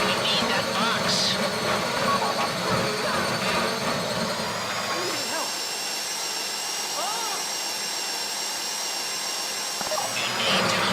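A safe-deposit box drill whining steadily during a bank heist in the video game GTA V Online, a continuous high mechanical drone with shifting pitch under game sounds.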